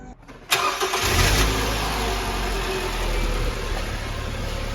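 A 2011 Scion tC with a manual transmission cranks and catches about half a second in, then settles into a steady, close engine idle that runs to the end.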